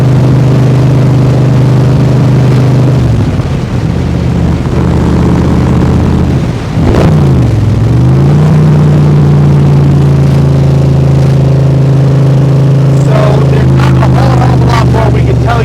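A 2020 Backdraft Cobra Iconic Edition roadster engine drones steadily at close range while driving, with a dip and swell around a gear change midway and a loud, continuous exhaust note throughout.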